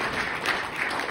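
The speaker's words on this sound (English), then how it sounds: "Clap if you know that song." Comedy club audience clapping along in a steady, fairly loud wash of applause, continuous through the brief moment with no talk over it.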